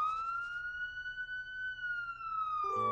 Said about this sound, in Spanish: tiene una sirena muy sonora